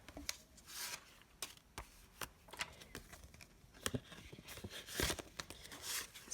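Paper cash bills are handled and counted into an envelope, giving soft, intermittent rustling and crinkling with short papery flicks and pauses, close and quiet with no talk.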